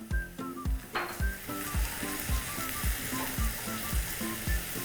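Peas and chopped sage fry in a pan with a loud, bright sizzle, punctuated by rhythmic scraping and clacking as a utensil stirs them roughly twice a second, with a few faint voices in the background.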